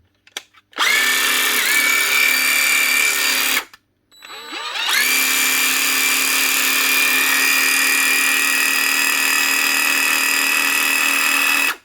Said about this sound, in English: One Dewalt cordless jigsaw up and running again.